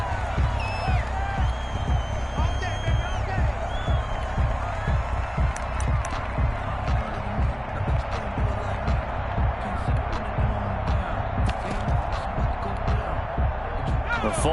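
A stadium crowd at an American football playoff game roars steadily throughout, with a dense wall of cheering and whooping under a commentator's voice.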